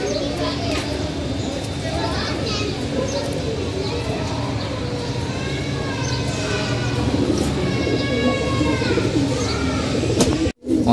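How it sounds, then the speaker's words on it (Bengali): A pair of silver-patterned pigeons coo repeatedly as they are released, close and clear over ongoing talk, ending with an abrupt brief cutoff. "এই যে 2টা কবুতর"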